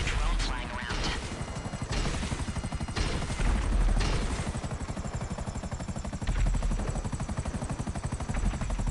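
A drone flies in the video game GTA 5, giving off a loud, steady whirring buzz of rotors for the whole stretch, with some mechanical clatter mixed in and no talking.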